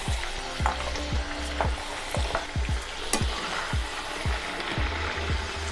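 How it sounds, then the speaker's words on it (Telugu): Chekkalu, rice crackers, fry in oil on a low flame with a steady bubbling sizzle, while a utensil knocks and scrapes repeatedly, close by and fairly quiet. "లో ఫ్లేమ్లో పెట్టుకుని చెక్కలు వేసుకుందామండి."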